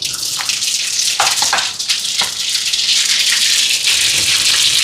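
Mustard seeds and fennel sizzling and crackling in hot oil while snake gourd is being cooked, a loud, steady hiss with scattered pops that runs throughout, with no voices.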